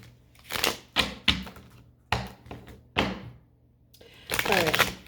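Tarot cards being shuffled in a series of crisp riffling bursts and soft thunks, several quick clusters spaced across a few seconds with a longer riffle at the end, close and fairly loud, with no talking over them.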